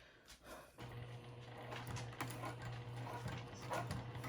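A domestic sewing machine stitches a seam with a back tack on a zipper pouch. It gives a close, steady mechanical whir and hum, with rattling gear noise and slight surges in speed throughout.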